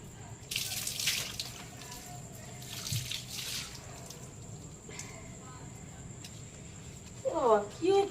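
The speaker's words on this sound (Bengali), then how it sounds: "এত জল দিয়ে ধুচ্ছি, তাও সব ধুতে যাচ্ছে" Tap water runs into a sink while something is being washed, a soft steady trickle with brief louder gushes and drips, under someone talking in Bengali.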